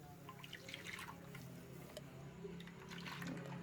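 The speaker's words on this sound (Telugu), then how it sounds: "ఇప్పుడు ఈ మిశ్రమాన్ని అంతా ఇందులో పోసుకోవాలి" Liquid milk and sugar mixture pouring into a ghee-greased box for instant junnu sweet, a soft steady trickle with faint dripping, quiet and continuous throughout.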